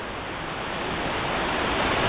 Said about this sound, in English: All this rushing water.